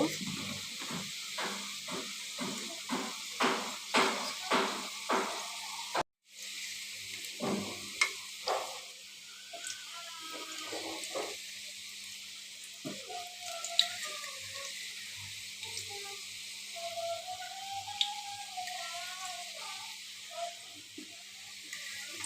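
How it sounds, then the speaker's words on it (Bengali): Snacks fry in a pan while being turned over. Soft sizzling continues under a run of light rhythmic stirring and scraping clicks, quiet and close, with a brief break partway through. "যাতে না পুড়ে যায় এই জন্য আমি আস্তে আস্তে সবগুলো উল্টিয়ে উল্টে ভেজে নিচ্ছি।"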